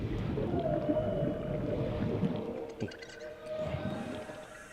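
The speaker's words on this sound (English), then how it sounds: "Something sounds like a whale." A low, drawn-out whale-like call echoes through the underwater world of the video game Subnautica, sweeping slowly over a constant murky ambient rumble.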